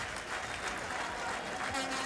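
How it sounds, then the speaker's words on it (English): Distant crowd applause at a 1985 India vs Pakistan one-day cricket match, a broad, faint wash of clapping under a commentator's voice. "Applause all around."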